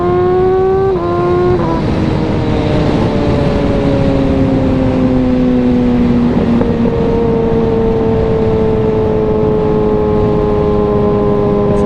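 A 2022 Kawasaki Ninja ZX6R 600-class motorcycle accelerates hard, its engine note rising through the gears with quick shifter cuts and no voices, loud and close throughout.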